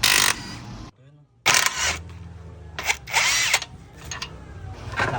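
Power tool whirring in loud bursts as the two size 10 muffler bolts come off a Honda Click 125 scooter, the drill spinning up and stopping several times with a short quiet gap between runs.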